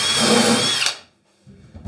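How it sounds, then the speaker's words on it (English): Power drill driving screws into a half-length of 3x2 timber while fixing a bed slat support rail, a loud continuous whirring burst that cuts off abruptly near the middle, followed by quieter handling noise. "I'm attaching that with screws."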